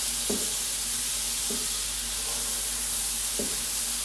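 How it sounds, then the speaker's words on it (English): Constant sizzling hiss of butter in a hot frying pan with gnocchi, loud and close, with a few brief scrapes or taps occurring at intervals. "You can hear that sizzle straight away."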